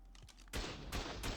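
Auto turrets in the game Ark fire bullets in sharp, loud bursts, three quick volleys of rapid gunfire following a few softer clicks.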